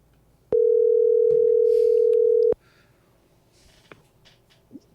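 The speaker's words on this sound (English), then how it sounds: "It sounded like all of a sudden it was like it was ringing back to me." A single steady electronic telephone line tone after a dropped call hums for about two seconds, then cuts off, leaving faint room noise and small clicks.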